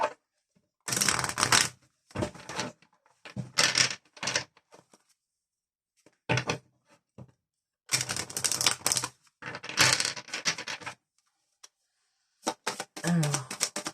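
Oracle cards shuffled by hand in several separate bursts of rapid, crisp riffling and flicking, loud and close, with near-silent pauses between them.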